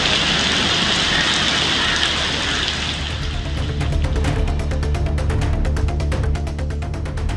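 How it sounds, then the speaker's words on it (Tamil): Heavy rain with wind, lasting over an hour, pours in a steady loud roar in Tamil Nadu, with a rapid, regular pattering rhythm appearing in the second half. "1 மணி நேரத்திற்கு மேலாக காற்றுடன் கூடிய கனமழை பெய்தது"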